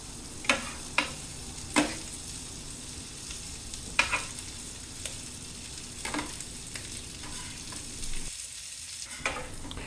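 A hot dog, bacon and onions fry on a Vevor 21-inch flat-top griddle, a steady soft sizzle punctuated by several sharp scraping clicks from a spatula, with no voices.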